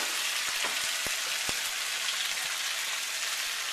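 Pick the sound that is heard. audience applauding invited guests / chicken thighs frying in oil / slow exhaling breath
chicken thighs frying in oil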